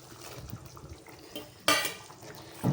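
Sardines dropped into a simmering pot of South Indian fish curry (meen kuzhambu) give a sudden loud wet splash and clatter, after softer background kitchen clinks and a brief final knock.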